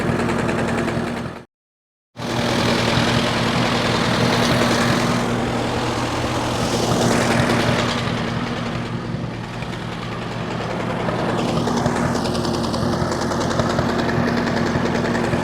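1953 Allis Chalmers WD45 tractor engine idling in neutral, a steady, loud, close low chugging hum with one brief dropout near the start, with no talk.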